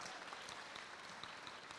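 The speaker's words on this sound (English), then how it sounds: "Please clap for the Glenbrook staff." An audience at the Horizons, Prospect and Glenbrook graduation ceremony applauds the Glenbrook staff: steady, dense clapping from a large crowd, heard faint and distant, with no voices on top.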